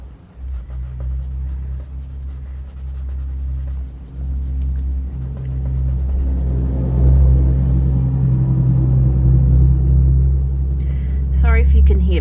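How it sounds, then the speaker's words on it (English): Steady low rumble of traffic on a busy side street outside a home, with vehicles passing and swelling louder midway, under a voice talking indoors. "even though it's a side street, it still gets a lot of traffic"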